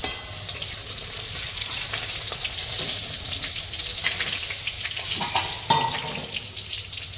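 Green chillies hit hot oil in a pan for making bajra-methi muthiya, giving a bright continuous sizzle and crackle with a few sharper pops, close and steady throughout.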